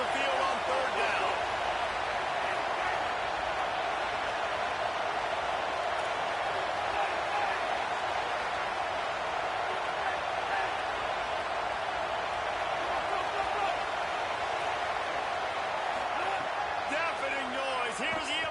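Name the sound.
home crowd cheering at Iowa NCAA football game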